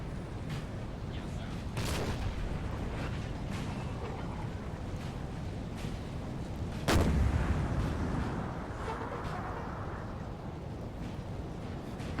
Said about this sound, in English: These Bavarian guns have not stopped firing all day. 6-pounders here on this hill.